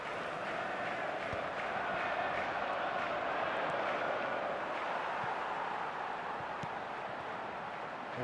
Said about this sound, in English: the roof's just about stayed on, but the crowd level has gone up a notch or 10